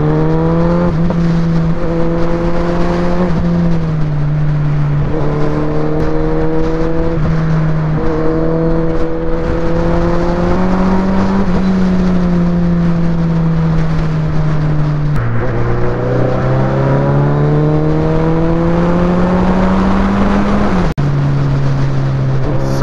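A motorbike engine drones loud and steady while riding through hot, heavy traffic, its pitch rising and falling with throttle changes and shifts, with no talk over it.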